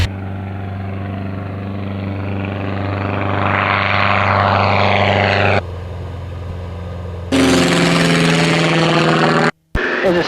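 Small propeller airplane flying with a steady engine drone and strong low harmonics, the pitch rising and shifting as power changes, loud and close throughout, with a brief dropout near the end and no talking.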